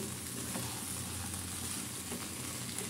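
Vegetable curry with pumpkin lentil dumplings sautés in a pan, a steady dense sizzle with faint scraping stirs underneath, close up and without any voices.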